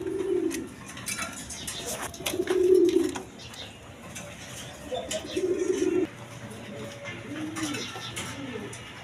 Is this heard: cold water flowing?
no